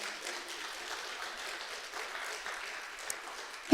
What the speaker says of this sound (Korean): 이때 박수를 우리 주님께 올리는데